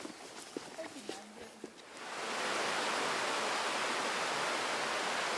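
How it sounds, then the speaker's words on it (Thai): A waterfall on Doi Inthanon that feeds the Mae Kat stream, its loud, steady rushing roar swelling in after a few quieter seconds of small clatter and steps. "น้ำตกเช่นนี้นะครับ ก็จะไหลไปรวมกลายเป็นน้ำแม่กาดนะครับ"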